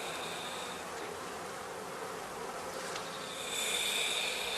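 Honeybees hum in a heather skep apiary, a dense, continuous buzz from many bees close by that swells slightly louder toward the end, with no voices.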